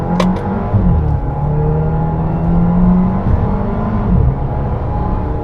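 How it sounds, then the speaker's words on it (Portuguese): A Fiat Pulse Abarth idles with a deep, steady exhaust rumble, close and loud, with a brief rev swell near the start and another toward the end. "E o ronquinho, né, do escapamento é bonito, né? Esse aqui ronca, hein?"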